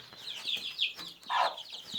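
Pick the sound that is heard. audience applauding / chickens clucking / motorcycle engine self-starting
chickens clucking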